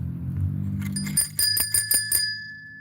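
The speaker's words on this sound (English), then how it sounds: "I love ringing that bell." A tricycle bell rings five times in quick succession, bright metallic dings ringing out clearly after a low rumbling hum.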